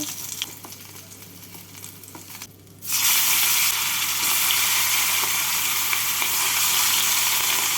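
Katla fish pieces frying in oil for kalia; a quieter stretch gives way to a sudden loud, dense sizzle that keeps going steadily, close and unbroken.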